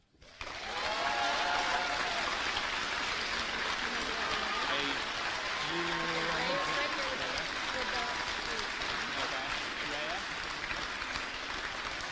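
An audience at a senior awards night claps for a group of student award recipients, a long, steady wash of applause with some voices and brief tonal sounds mixed in.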